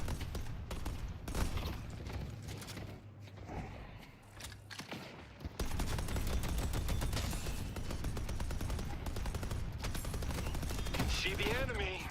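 A turret in the Deadlock video game fires rapid automatic bursts, a dense, continuous rattle of gunfire that grows louder and steadier in the second half, mixed with game effects and faint speech.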